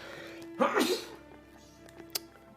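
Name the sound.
huge human sneeze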